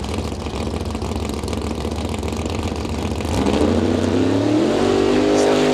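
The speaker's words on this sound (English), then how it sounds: "That car was downright violent as it left." A Corvette race car at a Friday test and tune, its engine rumbling at idle before launching hard into a loud, rising, violent roar as it accelerates away.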